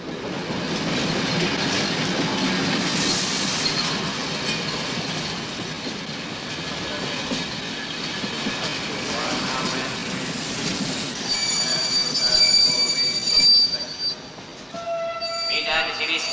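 Passenger train running on rails on the way to the Swiss border, a steady rumbling roll with rising squeals and metallic ringing toward the end, continuous and fairly loud.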